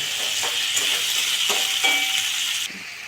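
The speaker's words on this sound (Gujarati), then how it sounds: "લવિંગ ડુંગળી અને ટામેટા નાખી સાતરવું" Cloves, onion and tomato sizzle loudly in hot oil for palak paneer gravy, a dense close frying hiss with a few stir clicks, dropping off sharply near the end.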